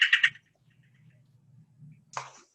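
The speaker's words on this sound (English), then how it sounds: "So that's a Cactus Wren." Coastal Cactus Wren calling at Alta Vicente: a quick, harsh, rasping burst of repeated notes at the start, then a low hum, then another scratchy call near the end.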